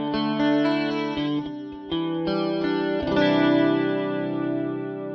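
Electric guitar played through a Fractal Axe FX III amp modeller set for stereo output, sustained chords ringing with chorus-like shimmer and light distortion, several chord changes, no talk.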